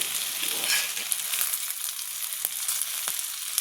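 An egg pizza with a sliced potato base fries in a pan, giving a steady bright sizzle with faint crackles and a few soft clicks from turning it, alone without talk.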